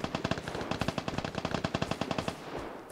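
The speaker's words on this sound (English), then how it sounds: "That's an L85." Rapid automatic fire from an L85 rifle in the video game Vigor, a steady rattle of close, evenly spaced shots lasting nearly three seconds with no talk over it.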